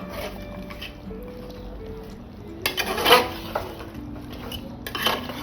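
Mutton curry with potatoes stirred in a pot after the lid comes off, with scraping and clinking of a spoon against the metal, a few sharper knocks, and a faint background hum.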